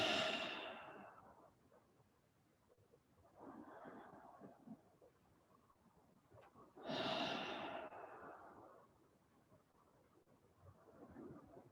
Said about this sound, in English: You are creating your space through your breath.